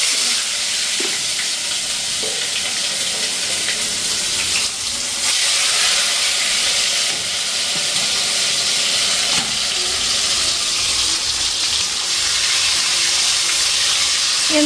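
Tomatoes hit hot oil in a home kitchen pan and fry, giving off a continuous bright sizzle with soft crackles and a brief surge partway through, close and steady, with no voices.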